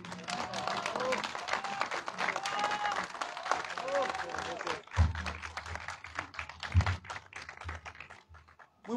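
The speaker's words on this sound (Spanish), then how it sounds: "para quien pide un fuerte y caluroso aplauso" A crowd claps steadily at an outdoor municipal ceremony in Tepeaca marking the start of street paving rehabilitation, a broad dense wash of applause with a voice speaking over it, ending in a few louder thumps.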